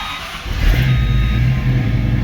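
A Ford Mustang engine fitted with Holley Sniper EFI fires up and settles into a steady, close rumbling idle.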